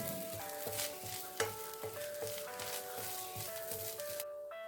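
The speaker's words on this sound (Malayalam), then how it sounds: "നമുക്കൊരു കുറച്ച് വെളിച്ചെണ്ണ ഒഴിച്ചതൊന്ന് വറുത്തെടുക്കാം." Grated coconut fries in coconut oil in a pan for a toor dal and drumstick curry. A continuous crackling sizzle runs under prominent background music until the sound drops out near the end.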